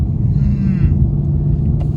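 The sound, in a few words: Ford Mustang Coyote V8 engine exhaust rumbling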